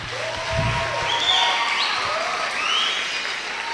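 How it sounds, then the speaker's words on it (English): An audience at a school presidential debate applauds, a steady wash of clapping that holds at moderate loudness throughout. "Let's clap for them."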